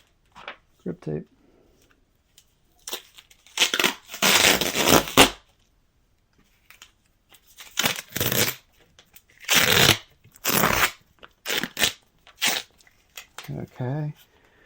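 Grip tape being handled close to a binaural microphone, a series of short dry rustling and scraping bursts in an otherwise quiet room, some bursts longer and louder than others, with a few soft taps between them.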